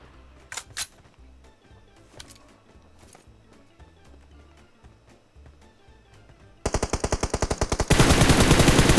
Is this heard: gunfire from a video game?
yes